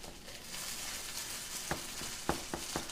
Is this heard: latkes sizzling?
yes